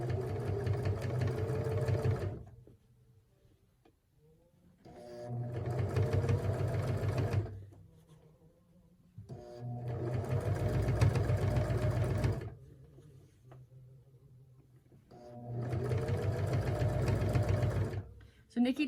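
A sewing machine stitches bias binding in four sustained bursts of close, whirring motor hum, separated by quiet pauses as the work is repositioned.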